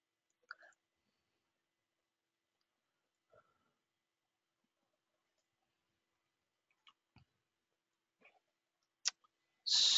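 A single sharp mouse click on a website's publish button, faint and isolated in near silence, preceded by a few soft scattered ticks and followed by a burst of louder noise.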